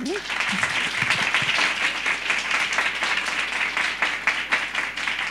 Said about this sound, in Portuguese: Palmas para a doutora.